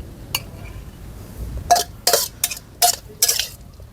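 A spoon clinks sharply against a plate several times, in quick irregular taps, against a quiet background, as spicy stir-fried wild boar is served from a wok.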